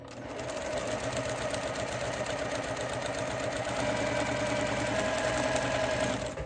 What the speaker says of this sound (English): And then I'll just finish sewing this 9 patch.